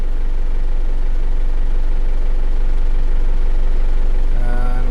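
Engine of a Holden Isuzu Rodeo lacking power, a steady loud low drone close by with little change in pitch, barely rising when revved.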